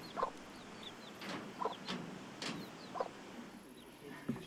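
A flock of hens on a farm with horses, sheep, geese and goats, clucking in short scattered bursts at moderate distance against quiet outdoor background.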